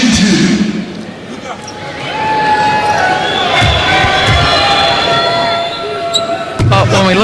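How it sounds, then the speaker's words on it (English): Crowd noise fills a basketball arena during a USA versus Argentina exhibition game as Kevin Durant receives a round of applause, a steady dense roar with scattered shouts and a commentator talking over it. "Durant gets a nice round of applause."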